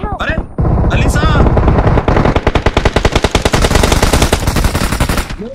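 Rapid automatic gunfire in the mobile battle royale game BGMI, a loud close burst of evenly spaced shots that runs for several seconds, with short voice fragments at the start.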